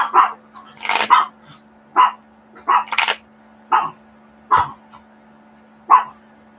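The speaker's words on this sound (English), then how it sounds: "I'm really sure what the dogs are barking about," Dogs bark in steady separate bursts, about eight sharp barks spread over several seconds at moderate distance, with a faint constant hum underneath and no talking.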